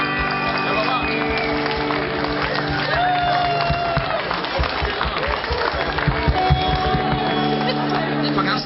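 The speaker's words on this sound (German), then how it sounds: "nochmal einen wirklich besonderen Applaus für unseren lieben Freund" A live audience applauds a guest at a Cologne folk concert, with a dense, continuous clatter of clapping and crowd murmur, mixed with voices and background music throughout.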